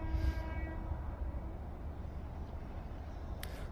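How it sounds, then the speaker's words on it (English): Class 350 electric train at Lichfield Trent Valley station on the West Coast Main Line, a steady low rumble of wheels and motors at moderate distance, with a brief high whine near the end. "So yeah, this train goes to Crewe."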